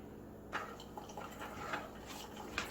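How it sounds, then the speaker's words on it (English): A coffee maker brews Gevalia caramel macchiato into a mug, giving faint dripping and soft liquid trickles over a low hum, quiet and close, with a few slightly louder drips. "we're going to go ahead and start the brew process for you"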